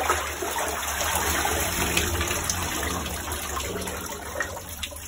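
Water drains from a bathtub after the plug is pulled, a steady gurgling rush with small bubbling pops, heard close by and without any talking.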